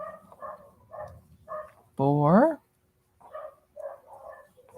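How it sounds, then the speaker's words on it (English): A dog lets out one loud, drawn-out bark or yelp partway through, while a person talks before and after it. "Those dogs are barking."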